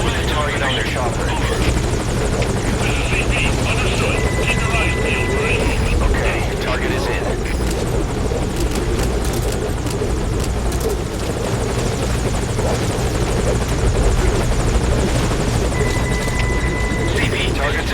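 A helicopter in the video game Metal Gear Solid V: Ground Zeroes drones with a loud, continuous rotor and engine roar throughout, while radio-style voices talk over it.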